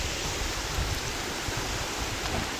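Water rushes steadily over a small dam forming a shallow waterfall, a continuous broadband roar close by with no pauses or voices.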